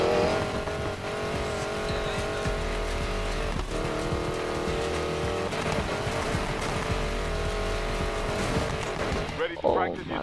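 Steady engine roar from a car in Need for Speed Payback runs the whole way with a brief skid-like burst near the end, while a player talks over it.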